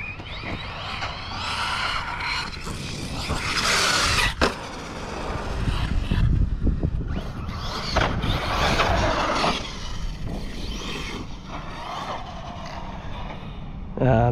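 An Arrma Kraton V5 RC car in stock form runs in bursts, its electric motor whining and tires scrabbling over the ground, with sharp impacts and pauses between runs.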